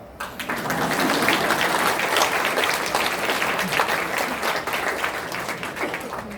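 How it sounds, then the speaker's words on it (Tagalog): An audience at a power industry forum breaks into applause, a dense, steady clapping that swells quickly and holds loud for several seconds before tapering slightly. "Palakpak."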